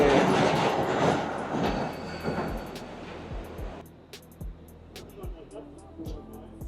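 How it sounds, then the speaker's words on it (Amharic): A Wuppertal suspension railway train passes overhead, a loud rumbling rush that swells and then fades, followed by sharp metallic clicks and clacks in the quieter stretch, with a voice talking nearby. "ባቡሩ ከላይ እየመጣ ነው ያያችሁት።"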